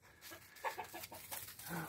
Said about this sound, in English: I just wanted to show the chickens